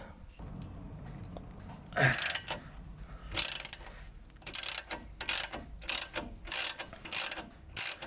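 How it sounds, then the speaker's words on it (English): A ratchet and spanner work on the shock absorber bolts of a Ford Fiesta ST180, giving close, quick bursts of ratcheting clicks in repeated strokes with short pauses, over a faint background hum. "you actually want to use 2 spanners or a ratchet and a spanner, because you got to turn the one side while holding the other side stiff"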